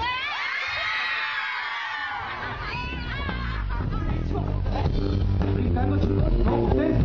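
A group of children shouting and screaming together, loud and sustained, rising from a high tone into a dense chaotic crowd of voices that fills the whole stretch.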